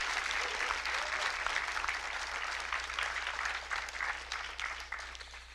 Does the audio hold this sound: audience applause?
yes